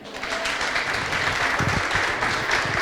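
Audience applauding at a talk show, steady dense clapping throughout at moderate level, with a few louder individual claps standing out.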